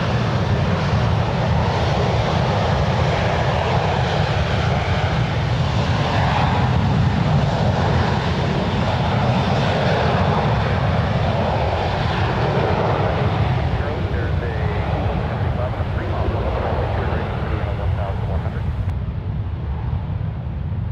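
Jet airliner at San Francisco International Airport rolling for takeoff, a steady broad engine roar with low rumble held loud for the whole stretch, sounding near, with wind buffeting over it.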